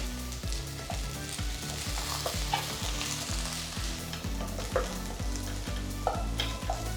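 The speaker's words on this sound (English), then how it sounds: "Now I'm going to add 1 teaspoon of ginger garlic paste." Ginger garlic paste is stirred into golden-brown fried onions in a hot pan, giving a steady loud sizzle with repeated scraping stirs throughout.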